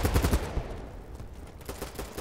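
Rapid bursts of automatic gunfire in the military shooter BattleBit Remastered, a fast rattling volley at the start, a brief lull, then another quick string of shots, moderately loud and fairly close.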